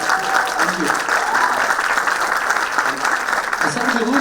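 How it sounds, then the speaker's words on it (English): A crowd claps steadily in loud, sustained applause that fills the room for several seconds. "Let's have a loud round of applause here."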